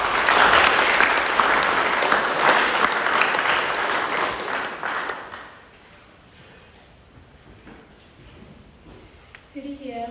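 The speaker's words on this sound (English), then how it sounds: "if you can give her a round of applause as each person comes up" An audience at a 2021 leadership speech event claps for about five seconds, with loud, dense applause that fades quickly into a quiet room with faint rustling.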